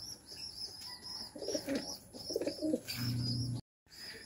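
A racing pigeon back home from a training release coos softly in the loft in two short bursts, followed by a longer low cooing call. Faint chirps and a light outdoor hiss fill the background.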